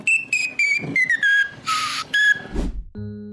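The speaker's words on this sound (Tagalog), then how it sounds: "Di isa o dalawa, kundi sangkatutakang silbato." A whistle band performer from Dasmariñas, Cavite blows a string of shrill, bright whistle notes in quick bursts. Pitches slide and change, one long buzzing blast sits in the middle, and a short low tone closes it.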